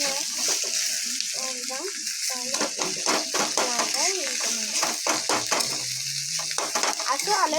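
Potatoes frying with salt in a pan, a steady close sizzle with stirring scrapes throughout, under someone talking continuously.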